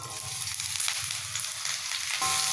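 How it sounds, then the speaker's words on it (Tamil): Chopped pirandai (adamant creeper) fries in sesame oil, giving a continuous close, dense sizzle and crackle with a faint stirring texture and no voices. "அதனால் இதை நல்லா வறுத்துப்போம் அப்படி நல்லெண்ணெய் பத்தலைன்னா கூட நம்ம ஊற்றிக்கலாம்"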